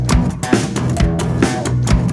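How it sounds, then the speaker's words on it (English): Slap guitar octaves are played with the thumb slapping a low note and a finger popping the high one, giving a quick, percussive pattern of snapping attacks with a bouncy rhythm, close and alone. "will then hit the low note with their thumb and pop the high one."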